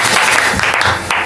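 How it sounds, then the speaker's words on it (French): A church congregation applauds Jesus during a French-language worship service, a loud, dense burst of clapping that carries steadily and then thins slightly toward the end. "Acclamons Jésus"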